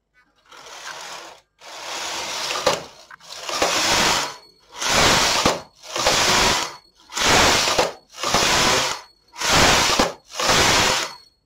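A domestic knitting machine carriage is pushed back and forth across the needle bed to finish a V-neck sweater piece with waste yarn, eight loud rasping mechanical sweeps in a steady rhythm, each separated by a short pause, close and without talk.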